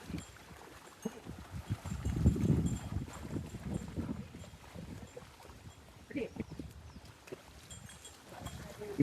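Oxen pulling a bullock cart on a farm in Kasheli village, Konkan, plod along with steady, uneven clip-clop hoof steps and a low rolling rumble, with muffled voices in the background.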